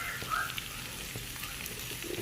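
Onion and capsicum sauté in a hot pan for chilli chicken, giving a soft, steady sizzle and faint crackle with occasional light scrapes, fairly quiet throughout.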